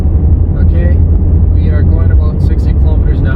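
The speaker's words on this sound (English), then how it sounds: "I had quite a loud humming noise when I was inside the car." A loud, constant low droning hum from a worn rear wheel bearing fills the cabin of a moving 2003-2008 Toyota Corolla, with steady road rumble beneath it.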